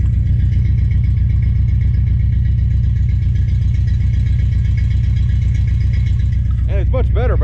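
The 340 V8 in a 1970 Plymouth Duster race car idles with a steady, loud, lumpy low rumble that runs unbroken, and a voice starts talking over it near the end.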